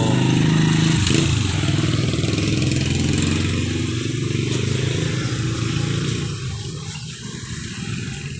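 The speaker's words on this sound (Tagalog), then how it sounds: "yan yung motor ko" A parked motorcycle idles loudly nearby, its engine holding a steady, throaty rumble that dips slightly toward the end, with no talking over it.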